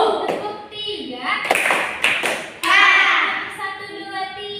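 Children in a small classroom group clap on a teacher's count, a few sharp hand claps and thuds standing out among nearby voices and talk.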